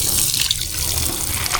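Water flows steadily from a hose or tap while plants are watered, a continuous close splashing rush with no pauses and no voices.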